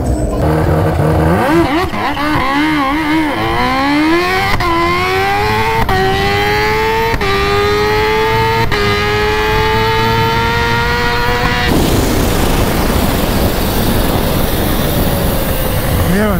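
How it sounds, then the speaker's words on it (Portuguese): A Kawasaki Ninja H2 motorcycle launches down a drag strip, its engine climbing hard through several rapid upshifts with sharp pitch drops between gears, loud and close, before the sound gives way to a rushing, distant roar. "a moto tá vindo, aqui em cima ela corre, engata todas as marchas"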